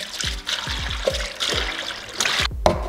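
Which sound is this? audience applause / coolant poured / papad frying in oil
coolant poured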